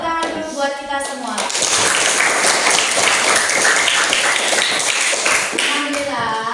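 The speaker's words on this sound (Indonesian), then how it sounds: "Jadi tepuk tangan dulu buat kita semua." A classroom of students breaks into loud, sustained applause after presentations, with a voice speaking briefly at the start and end over the clapping.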